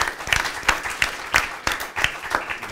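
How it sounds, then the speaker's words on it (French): An audience at a program launch event applauds, giving a few seconds of steady, moderately close clapping with some uneven, louder claps standing out. "On les applaudit."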